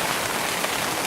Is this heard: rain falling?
yes